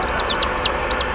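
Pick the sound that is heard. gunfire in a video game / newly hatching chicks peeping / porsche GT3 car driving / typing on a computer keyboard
newly hatching chicks peeping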